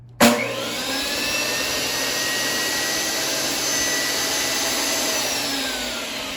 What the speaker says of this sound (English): I'll turn it on and see what it sounds like.